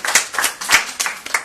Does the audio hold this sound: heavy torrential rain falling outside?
no